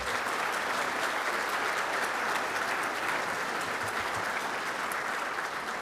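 Steady, even applause from dinner guests at a charity fundraiser honouring sponsors, a dense wash of many hands clapping at moderate distance with no voices on top.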